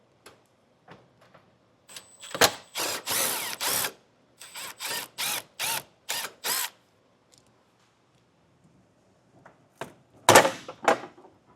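A power tool on a 2022 BMW X6 spins off 10mm nuts and screws in several short, loud bursts. Each burst is separated by brief pauses and a few quiet clicks, and no one speaks over it.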